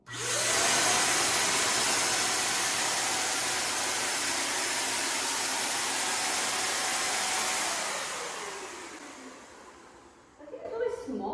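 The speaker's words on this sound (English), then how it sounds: "I have my paint sprayer loaded." A loaded paint sprayer used for house painting gives a loud, steady broadband hiss for about eight seconds, then tapers off and stops, with faint clatter afterward.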